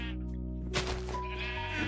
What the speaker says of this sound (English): Okay, this sheep is friggin' evil.